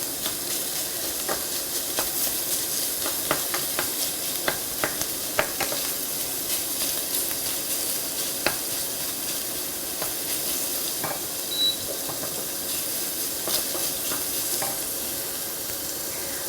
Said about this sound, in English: the sausage meat browns up very, very quickly